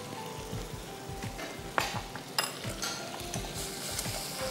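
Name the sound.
mixing flour into butter for white sauce in a pan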